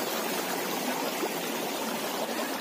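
A mountain stream at a bathing spot rushes steadily in a continuous, full hiss of flowing water, close and even throughout, with no voices.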